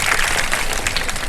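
A studio audience at a live Ramadan iftar television show in Pakistan applauds, a dense and steady wash of many hands clapping at once, loud and continuous with no talk over it.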